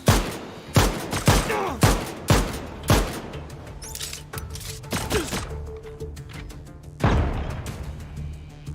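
Turret gunfire in the video game Lost Skies, a string of sharp evenly spaced shots for about three seconds, then scattered hits and a later burst over a droning background hum.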